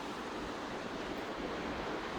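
A turbulent mountain river rushes in a steady, dense roar of broadband water noise, continuous and fairly close with no pauses or voices.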